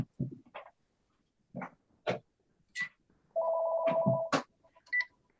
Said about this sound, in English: apologies for that phone ringing in the background